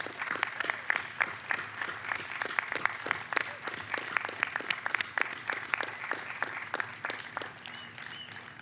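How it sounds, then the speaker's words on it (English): A crowd applauds to welcome the graduating class of 2021 at the Oakland High School graduation ceremony, with steady dense clapping and sharp individual claps, moderately distant. "we're still going to welcome the class of 2021 with a round of applause"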